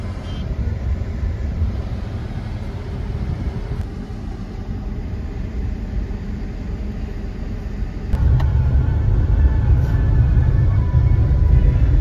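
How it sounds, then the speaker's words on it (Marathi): Heavy road traffic on a busy Sunday near Vajreshwari gives a steady, close, low engine rumble with passing vehicles, growing noticeably louder and heavier partway through, with no talk. "आज रविवार म्हणून, जास्त ट्रॅफिक आहे।"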